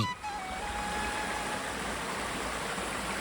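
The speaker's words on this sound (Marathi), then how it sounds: "हे जे वेगानं खाली वाहत जाणारं पाणी दिसतंय" Fast-flowing forest stream near the source of the Nira river in the Sahyadri hills, a steady broadband rush of water running continuously and fairly close, with no talk over it.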